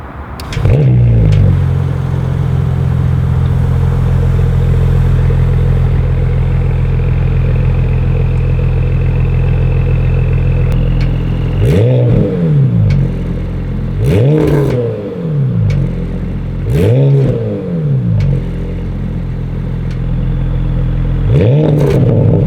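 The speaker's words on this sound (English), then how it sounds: "At the rear, we find the optional valve-controlled sports exhaust system. Let's hear how it sounds," A 2018 Porsche Panamera 4 E-Hybrid Sport Turismo with the optional valve-controlled sports exhaust idles loudly, then blips through four sharp revs in a row, each rising and falling quickly, heard close with no talking.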